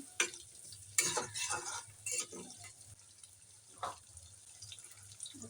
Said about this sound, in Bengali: এবার এখানে এক চামচ বাটার অ্যাড করতেছি গাজরটা ভেজে নিই